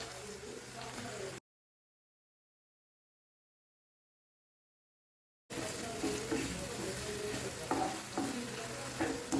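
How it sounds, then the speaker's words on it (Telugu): Ground onion and green chili paste fries in oil with a close sizzle and stirring scrapes, cut off by a few seconds of silence before the bubbling sizzle returns louder. "ఈ ఉల్లికారం అనేది పచ్చివాసన పోయి చక్కగా ఈ నూనెలో వేగాలన్నమాట"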